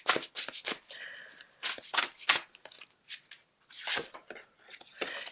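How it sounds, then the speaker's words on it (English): Oracle cards are shuffled in quick bursts of crisp, papery riffling and flicking, loud and close, with short pauses between runs and no talking. "So let's grab you a Divine Abundance Oracle card to close out."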